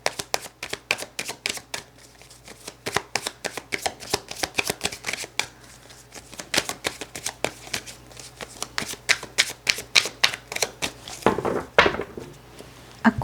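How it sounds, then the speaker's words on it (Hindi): Tarot deck being shuffled by hand at close range: a long run of crisp card slaps and riffles in an uneven rhythm, steady and clear, with no one talking. "ओके, आपके लिए कार्ड्स को शफल करते हैं।"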